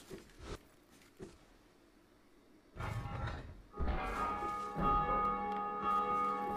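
A church bell in Dark Souls 2 is struck after a few soft mechanical clunks, its metallic tone ringing out and sustaining loudly over the final seconds.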